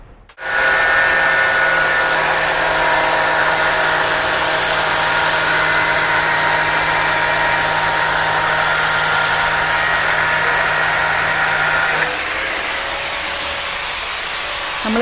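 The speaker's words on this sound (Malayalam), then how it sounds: "ചെയിൻ കട്ടർ യൂസ് ചെയ്തിട്ടാണ് ചെയിന് കട്ട് ചെയ്തിട്ടുള്ളത്" A power chain cutter grinds through the drive chain of a Yamaha R15 version 1 motorcycle, a loud, steady high-pitched whine that runs unbroken for about twelve seconds, then cuts off abruptly to a quieter hum.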